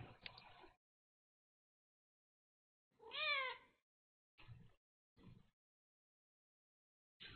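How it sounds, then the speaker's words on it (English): A cat in the video game Another Eden gives several separate meows, one long wavering cry followed by shorter calls, clear and close, with silent gaps between them. "This is one weird cat."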